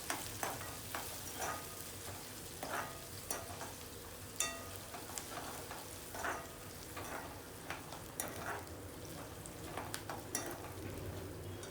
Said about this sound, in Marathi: थोडं हिंग तेलात फुललं की त्याच्यावर तुम्ही हा बारीक केलेला कांदा घाला